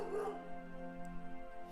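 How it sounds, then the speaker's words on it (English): A dog bark sound effect from the Dice With Death video game: a single fairly quiet bark that trails into a short whimpering tone, with no talk. "It was a dog bark."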